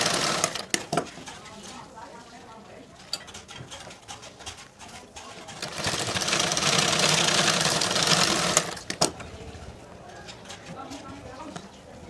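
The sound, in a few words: sewing machine stitching tucks on a blouse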